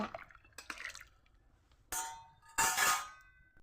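Potatoes with salt, turmeric, chili powder and green chili stirred in a pan, with scattered clinks and scrapes of a utensil, a couple of louder sizzling scrapes near the end, close and quiet.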